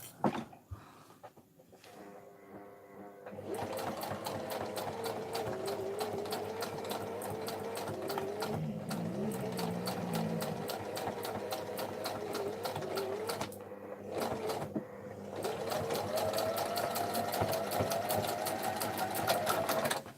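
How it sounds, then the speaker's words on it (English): A sewing machine runs in fast, even stitching bursts, with brief pauses and restarts between long steady runs. "That should be the last of my sewing machine."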